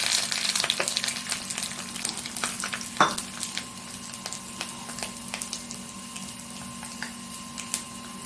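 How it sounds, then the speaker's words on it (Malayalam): Small chopped coconut pieces fry in ghee in a pan, giving a close, steady crackling sizzle broken by sharp pops and scraping stirs, with no talking. "ഇതിട്ട് ഇച്ചിരി തേങ്ങ ഇട്ട് മൂപ്പിക്കുകയാണ്."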